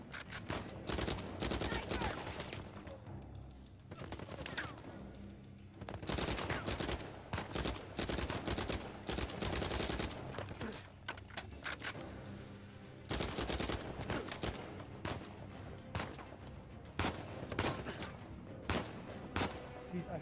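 Gunfire in the action game Uncharted 4: A Thief's End, with dense bursts of rapid shots and bangs in repeated waves, loud and close, with brief lulls between volleys.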